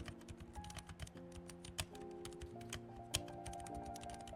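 Rapid, irregular clicking from typing on a budget AG61 mechanical keyboard fitted with muted switches. The keystrokes are close and crisp, steady throughout, with a couple of sharper louder strokes and no talking.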